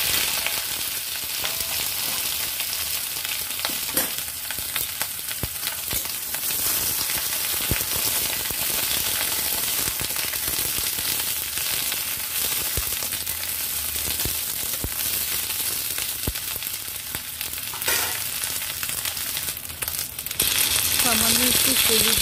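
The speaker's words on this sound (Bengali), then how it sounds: "তেল গরম হয়ে গেছে, প্রথমে বেগুন ফ্রাই করে নিচ্ছি," Eggplant fries in hot oil dusted with turmeric, giving a dense, loud, continuous sizzle with occasional crackles and stirring clatter throughout.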